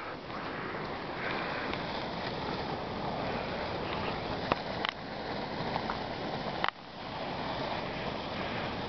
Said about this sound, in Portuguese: É a água fervendo.